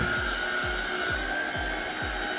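A Black & Decker PowerSeries+ 16V cordless stick vacuum (BHFEA420J) runs on its low setting with a steady whine, and a rhythmic low thump repeats about every half second as it is pushed back and forth.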